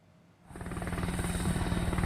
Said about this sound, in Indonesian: Untuk penyekatan titik api, pemadaman menggunakan helikopter waterbombing.